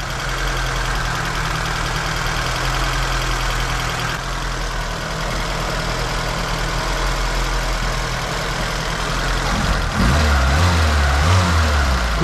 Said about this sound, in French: Écoute le bruit de l'aspiration